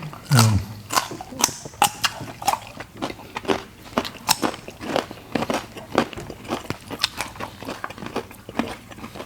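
Crunchy pork belly wrapped around enoki mushrooms, topped with gochujang sauce, is chewed up close, with repeated crisp bites and crackling crunches in a steady rhythm that lasts throughout.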